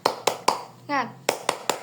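A primary school class does a rhythmic clapping cheer, three sharp group claps, a brief chanted voice, then three more claps in steady rhythm, loud and close.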